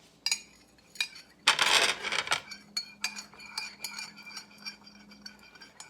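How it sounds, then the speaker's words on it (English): Salt brine for fermenting pickles is stirred with a spoon, giving a short swishing rush followed by a run of light, irregular clinks against the glass or pot, close and fairly quiet, with no one talking. "I'm gonna stir this up a little more"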